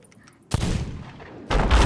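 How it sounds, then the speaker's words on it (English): Two heavy cannon blasts in the Sea of Thieves pirate game boom out in quick succession, loud and close. No one speaks. "Make sure you land the first shot."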